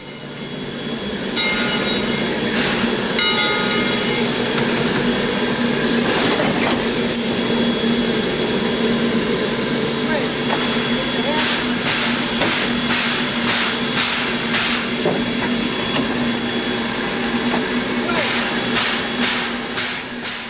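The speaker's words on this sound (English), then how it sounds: "Number 2 backs up to couple to the cars." A Heisler steam locomotive, cylinders arranged in a V, chugs and hisses close by as it backs up to couple to cars, with rhythmic bursts of exhaust and some metallic squeals over a steady rumble.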